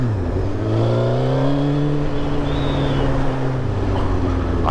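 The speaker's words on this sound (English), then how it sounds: "I've always said inline fours were quite sluggish at low revs. This bike feels fast as..." A Suzuki GSX-R1000 inline-four motorcycle with 100,000 miles on it revs while being ridden, its engine note a steady, droning whine that rises and falls gently over rushing wind noise.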